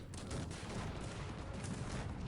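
Cannon and howitzer artillery in a Cossacks 3 ranked battle, England side, sound as a dense, continuous roar of overlapping volleys and booms, loud and steady throughout with no talk.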